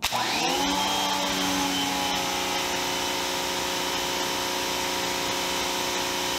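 A Giraffe Tools Grandfalls electric pressure washer with a retractable hose spins up quickly and then runs in a loud, steady motor whine with a droning pump tone, and no voices are heard.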